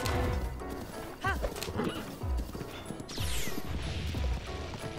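Horse hooves clip-clopping in Zelda: Breath of the Wild, heard amid busy game sounds with crashes and a brief whinny-like tone, fairly close and loud over five seconds.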